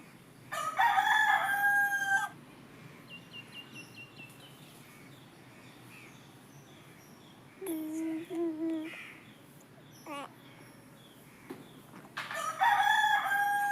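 Two roosters crow back and forth in loud, clear cock-a-doodle-doos, one call at the start, a shorter answer in the middle and another full crow at the end, with quiet background noise between.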